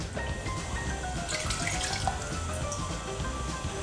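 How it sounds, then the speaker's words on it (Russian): Water pours from a tap into a pot of browned beef for goulash, a steady close splashing rush with light dripping, and no talk. "ставим его тушиться и заливаем водой так, чтобы она едва покрывала мясо"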